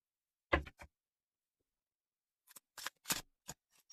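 A brand-new Wildwood Tarot deck being shuffled: one quick papery riffle burst, a pause, then a run of crisp shuffling snaps and flutters, close and fairly quiet.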